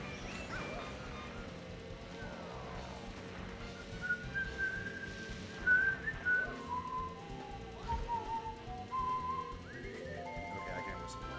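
A person whistles a few wobbly, stepping notes in the middle, fairly faint over a busy background of Mario Kart Double Dash game noise.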